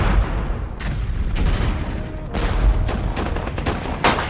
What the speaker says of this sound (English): A barrage of mortar fire, hand grenades